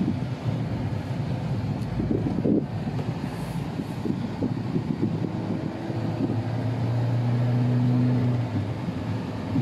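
A 2021 Suzuki Jimny drives over a bumpy stretch of road, with loud continuous road and wind rumble, irregular knocks from the bumps, and a rising engine tone late in the run.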